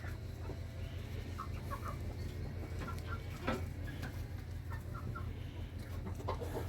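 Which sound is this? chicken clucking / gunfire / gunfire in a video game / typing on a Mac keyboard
chicken clucking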